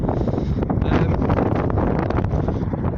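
Strong wind buffets the microphone in continuous gusty roars, loud and close, with no other clear sounds.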